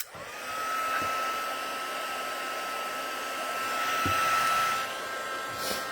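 A hair dryer blows steadily over a freshly painted watercolor, a continuous loud whirring hiss with a thin whine, running alone for the full stretch with slight swells in loudness.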